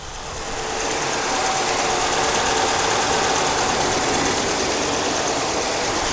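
A RAM 1500 pickup with a HEMI engine and MOPAR intake starts and settles into a steady, loud, stock-sounding idle with a constant rumbling hum and no voices.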